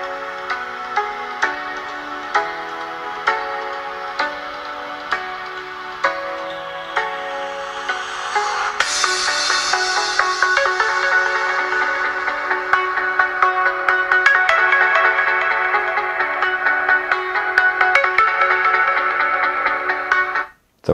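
A song plays through the small speaker of an Honor Note 10 phone, a bright melody of plucked notes that swells fuller midway and carries on steadily before cutting off abruptly.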